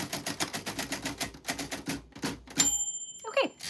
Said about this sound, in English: just the nature of an old typewriter